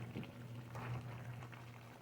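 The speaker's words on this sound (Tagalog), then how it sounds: "Bumukulo na." Goat feet boil in a covered pot of simmering liquid, giving a faint, steady bubbling and soft gurgle in a quiet kitchen.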